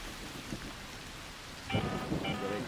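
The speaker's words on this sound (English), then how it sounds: "an electromagnetic storm is currently raging over topside. Beware the lightning strikes if you're outdoors." An electromagnetic storm in a video game brings rain hiss with a couple of sharp thunder or lightning cracks near the end, set against steady low background noise.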